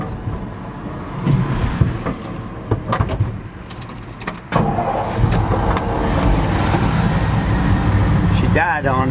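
A restored 1956 Ford F100 pickup's engine idles with a steady mid-range rumble under nearby talk, then sputters and stalls with some clunks and rattles.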